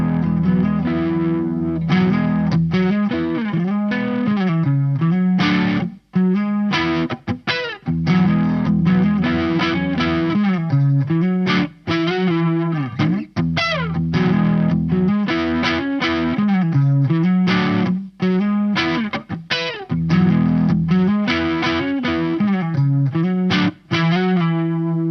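An electric guitar plays a riff through a Sonicake Levitate reverb and delay pedal, loud and continuous, with driven, sustained notes and brief gaps between phrases.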